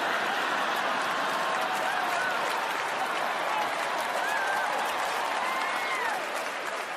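Audience at a stand-up comedy show breaking into steady applause, a dense wash of clapping with scattered cheers and laughter that continues throughout.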